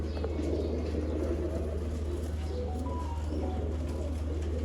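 Chapra pigeons coo softly in a loft, low repeated throaty calls over a constant low hum, with a faint higher chirp breaking through near the middle.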